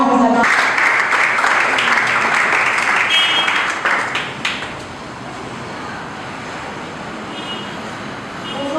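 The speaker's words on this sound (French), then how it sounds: "sous vos applaudissements" An audience at a women's development and democracy event in Kinshasa breaks into loud, dense applause that rolls on for several seconds, then fades into a murmuring hall ambience.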